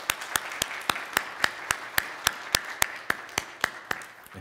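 A church congregation claps in steady unison to welcome a by-election candidate during a Sunday worship service at Yeondong Church. About sixteen sharp, evenly spaced claps come at a brisk, regular pace, with no talk over them.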